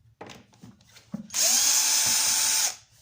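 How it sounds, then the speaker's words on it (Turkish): A power screwdriver removes screws from an Arnica vacuum cleaner, with a few light handling taps before one loud, close, steady whir lasting over a second that then cuts off. "Bu 4 vidayı toplamda sökeceğiz."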